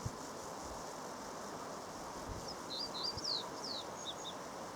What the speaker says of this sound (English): it is identifying with medium confidence a black redstart